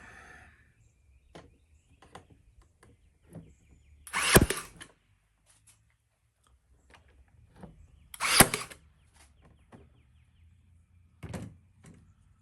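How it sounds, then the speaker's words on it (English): A wooden beehive frame being stapled together, with three separate loud, sharp staple shots spaced several seconds apart. Quiet handling and small knocks of the wood fill the gaps between them, and no one talks. "Once you have it securely in there, then you're going to staple."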